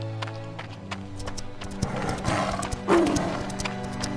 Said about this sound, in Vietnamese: Thôi nguy to, sói dữ,